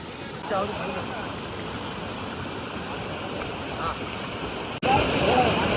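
Water from a mountain stream rushes steadily over rocks in a constant, loud roar that fills the whole clip without a break.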